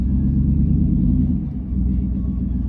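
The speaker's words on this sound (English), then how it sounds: "see what it sounds like with cutouts open and close" Deep, steady exhaust rumble from a 2020 Ford F-150 with the 5.0 Coyote V8, SPELAB cutout open and resonator deleted, while driving in sport mode towing a two-place jet ski trailer; loud and continuous, with a brief dip midway.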